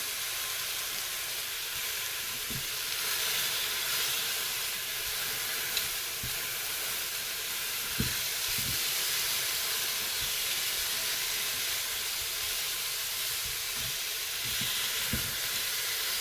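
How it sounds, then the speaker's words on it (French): Veal sears in a Cookeo pressure cooker with a steady, even hiss and sizzle, close and moderately quiet, broken by a few faint clicks. No talking. "je vais faire dorer que la viande"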